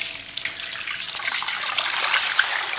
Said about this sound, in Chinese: 我提前给他洗一下。